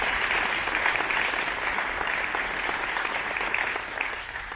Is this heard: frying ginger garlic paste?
no